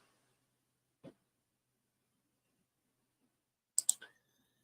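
A computer mouse gives a single sharp click, then after a pause a quick cluster of three or four clicks, each one crisp and near in an otherwise silent room.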